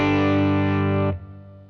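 Electric guitar through a Fender Mustang GT amp on its tweed model with the gain turned up, a single loud, thick distorted chord ringing out and then cut off after about a second, leaving a faint decaying tail.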